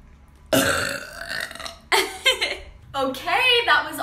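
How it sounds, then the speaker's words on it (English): Several loud deliberate human burps close up, a long drawn-out one followed by shorter ones and a final gurgling one, with no talk. "Can you make yourself burp?"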